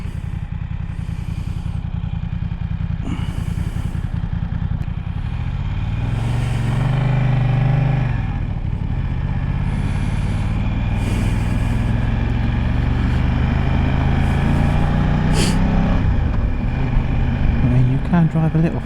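A car drives along a 40 mph road with a steady engine drone and road rumble close by, while someone talks over it at intervals.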